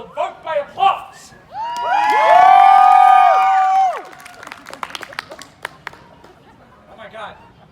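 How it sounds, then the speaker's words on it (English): A festival crowd at a Renaissance fair stunt show breaks into a loud, sustained cheer and whoop, then trails off into scattered claps and chatter, with short voices before it. "We'll vote by applause."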